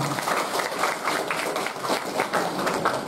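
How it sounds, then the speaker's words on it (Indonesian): Audience clapping at a school orientation seminar, dense continuous applause in pulsing waves, fairly loud and close, with faint voices underneath. "tepuk tangan dulu untuk kita semua"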